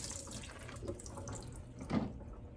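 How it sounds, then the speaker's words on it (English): Water pours and trickles steadily as rice is poured into a container of water, with a brief louder splash near the end; fairly quiet, no talking. "take your rice and pour it into some water"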